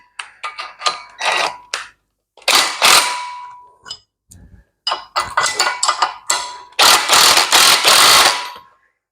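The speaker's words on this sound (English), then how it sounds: "So I'll just get this nut back on here." Metallic clinks and ratcheting bursts come from a nut being tightened onto a Mustang II independent front suspension for a 1935 Chevy, in irregular close-up clusters separated by brief pauses.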